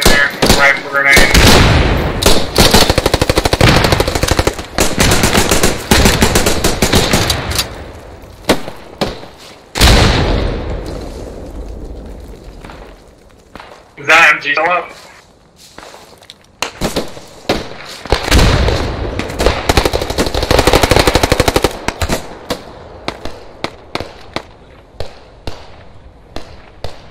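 Rapid gunfire bursts from a machine gun in the World War II shooter game Post Scriptum, loud and repeated across the scene in clustered volleys amid other battlefield shots, with a voice talking at times.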